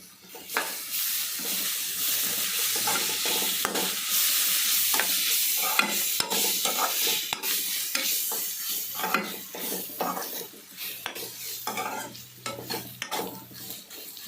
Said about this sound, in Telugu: అల్లం వెల్లుల్లి పేస్ట్ వేసి మళ్ళీ ఒకసారి కలిపేసి మూత పెడతారు